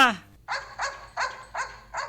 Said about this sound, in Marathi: कुत्रा आवरा ना बापा, तुमचं कुत्रं पहिले अंगावर येते